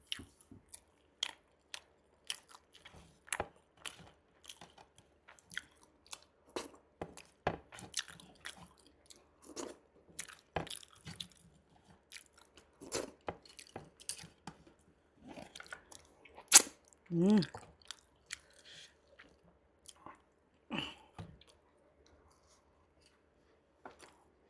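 Tough chicken roast meat being chewed up close, with a long run of irregular wet crunches and bites, some sharp and loud, spaced by short pauses and no talking.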